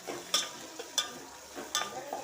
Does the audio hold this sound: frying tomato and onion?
yes